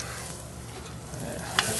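Fresh garlic sizzling in a pan gives a steady, fairly loud hiss, with a couple of brief scraping stirs near the end and no voices.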